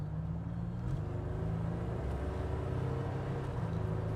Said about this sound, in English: You can hear the turbo, which is really neat.